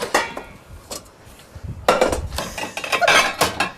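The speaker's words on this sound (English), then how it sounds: "Would you like me to pull some pans out?" Pots and pans, some of them heavy and large, are pulled out of a cupboard and handled, giving several clanking metal knocks and clinks in bursts, fairly close, with no talk over them.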